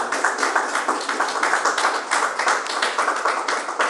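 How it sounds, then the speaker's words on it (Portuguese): Members of a church congregation clap in rhythm during a Portuguese-language sermon, a loud, even beat of many hands keeping a brisk steady tempo from start to finish. "palmas para o Senhor Jesus"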